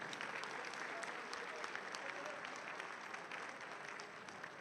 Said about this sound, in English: Give it up for Richard Sugimoto